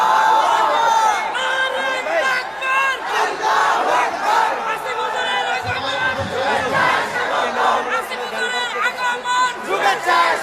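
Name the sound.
crowd of young men chanting the takbir response at a mahfil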